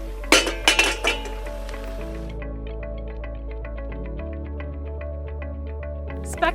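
Metal tea kettles left hanging at Tea Kettle Junction in Death Valley knock together in a quick burst of bright clinks, then settle into a ringing, fading metallic resonance.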